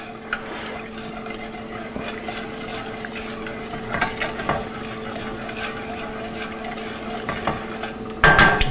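Steady sizzling from a hot pan of veal, with a utensil scraping browned bits off the pan bottom in repeated strokes and a louder clatter at the end; no talking.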